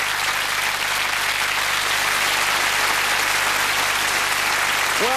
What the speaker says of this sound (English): Round of applause for the streaker, ladies and gentlemen.